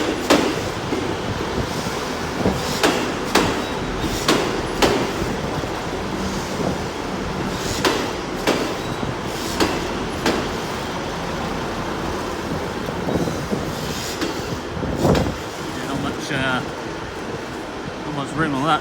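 A train at Exeter St Davids station on a late Friday afternoon, heard close with a continuous rumble and a steady series of sharp rhythmic wheel clacks over the rail joints, under gusty wind noise.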